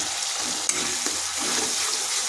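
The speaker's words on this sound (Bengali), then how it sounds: "মশলাটা ভালো করে কষে নিচ্ছি।" Spice paste with turmeric and chilli powder fries loudly for an ivy gourd curry, a dense hissing sizzle with watery bubbling throughout and a single sharp clink partway.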